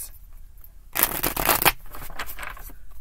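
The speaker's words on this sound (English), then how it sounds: "Why do you shuffle and cut the deck if you're just going to let them fly?" A deck of tarot cards being shuffled close up, a quick riffling burst of about a second followed by a second, softer run of card flutter, with no talk.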